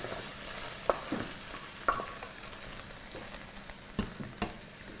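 Onions go into a pan of sizzling browned mushroom ragout, making a loud continuous frying hiss close by, with a few sharp clicks and scrapes of stirring.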